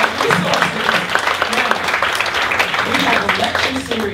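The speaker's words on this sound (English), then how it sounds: "you got to give them applause" Audience applause at a panel discussion on a slave wreck archaeology project, a dense steady wash of clapping lasting throughout, fairly loud and close, with voices mixed in beneath.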